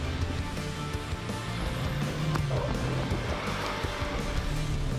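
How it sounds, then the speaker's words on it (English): Car engine revving hard with spinning, churning tyres in two-wheel drive while doing a burnout around a tree, a steady loud roar with gravelly rumble throughout. "I'm going to go in two-wheel drive so I can do a burnout around the tree"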